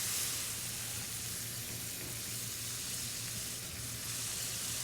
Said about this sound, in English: Then we're going to add our white wine. This is just a dry Chablis.